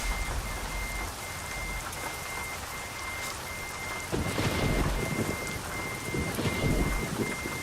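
Steady heavy thunderstorm rain pours down in the Euro Truck driving game, intensifying partway through, with a faint thin tone running above the downpour and no voices.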